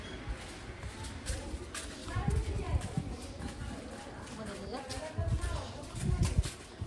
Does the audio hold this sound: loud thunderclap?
no